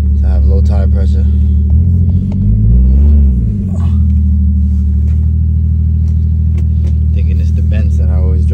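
A BMW car driving, heard from inside as a loud, constant low engine rumble that swells briefly mid-clip as it revs, with people talking over it.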